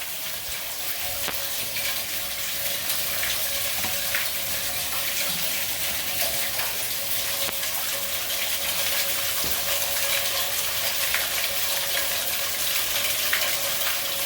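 Water runs hard into a bathtub with drainage issues, a steady bright hissing gush close by that continues unbroken with no one speaking.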